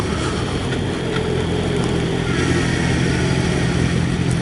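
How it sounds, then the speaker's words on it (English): Suzuki GSX-S750 motorcycle engine running steadily under engine braking, a continuous loud rumble mixed with road and wind roar, with no talking. "That engine braking is just a little weak."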